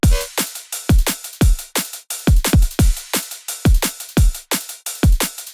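Drum and bass drum loop with punchy kicks, snares, crashes, hi-hats and rides, playing a fast steady pattern of sharp hits, loud and close with no voices.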